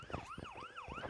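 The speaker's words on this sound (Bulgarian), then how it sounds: "ако си купиш сирени, може да спираш хората, ако са надвишили скоростта" Police siren from the Car Parking video game, a wailing electronic tone sweeping up and down in quick repeated cycles, steady and fairly clear with no talking.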